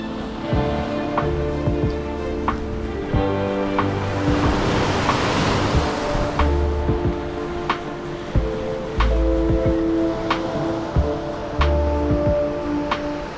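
Waves wash onto a forest-edged Baltic Sea beach on Rügen with chalk cliffs along the coast, a continuous roaring surf with swelling surges and some wind noise on the microphone.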